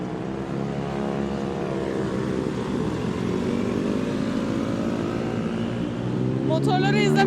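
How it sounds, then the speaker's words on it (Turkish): Motorcycles pass along a busy street in Bangkok, engines droning and rising in pitch as they go by, with a person talking over the traffic noise. "Motorları izlemek o kadar hoşuma gidiyor ki anlatamam."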